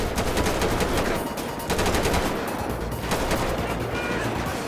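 Dense, rapid automatic gunfire bursts from a SWAT police shootout in GTA 5, loud and continuous throughout with overlapping shots and no speech.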